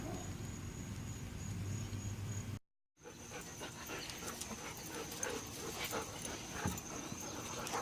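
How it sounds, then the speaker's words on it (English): Dogs panting and whimpering close by, with soft breathy pants and small whines over a low background, broken by a brief cut midway before continuing. "Hey doggies."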